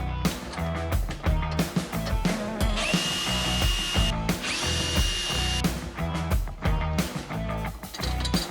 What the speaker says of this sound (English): And now that I got a pilot hole, I can just go ahead and drill through and finish